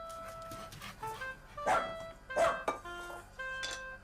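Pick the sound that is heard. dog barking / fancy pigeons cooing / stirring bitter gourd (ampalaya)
dog barking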